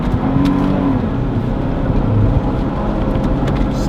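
A 2014 Jeep Wrangler locked in first gear accelerates hard while street drifting, its engine roaring loud and close with a steady, rising drone throughout.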